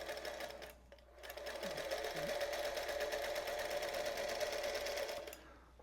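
A Featherweight sewing machine chain pieces quilt blocks with a fast steady whirring stitch that runs for several seconds between short pauses, close and alone.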